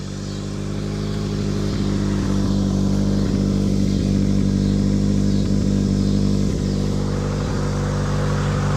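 A 1985 Honda Accord engine that had sat unused for years idles steadily and close by, a continuous low rumble with a faint periodic clatter and slight surges in level, with no voices over it.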